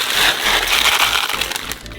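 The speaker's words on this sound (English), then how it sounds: "So, pour 1 kilogram of buckwheat into a saucepan." A kilogram of dry buckwheat grains poured into a saucepan, a dense continuous rattling and hiss of grains landing on metal, close and fairly loud, tapering at the end.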